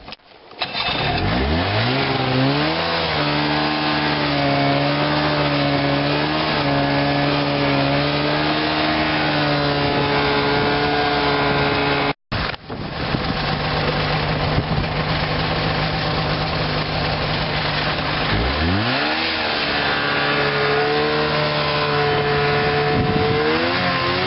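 A Ski-Doo Grand Touring snowmobile riding snowy trails, its engine loud and close, droning steadily and rising and falling with the throttle, with one brief cut partway through.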